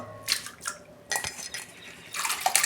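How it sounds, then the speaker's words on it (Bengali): Lentils tipped into a pot of hot water for vegetable khichuri, giving a few clattering, splashing bursts with brief gaps between them, close and fairly quiet, no voices. "আমি প্রথমে ডালটা দিয়ে দিচ্ছি।"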